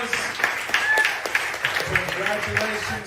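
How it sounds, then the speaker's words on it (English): An audience applauds honorees at a benefit event, a steady wash of clapping lasting about three seconds, with a few sharp claps and a faint tone standing out. "Please give them a round of applause."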